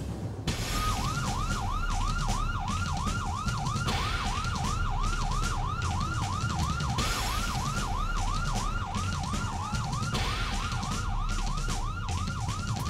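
A police car siren wails in a fast, continuous rising and falling cycle, loud and steady throughout over a rumbling background of traffic or crowd noise.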